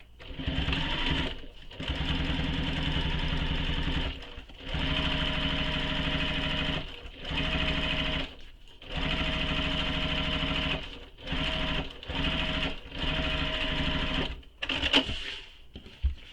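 A sewing machine stitches the bottom edge of a garment in repeated bursts of steady whirring, each run lasting one to two seconds with brief pauses between, close and clear with no talking.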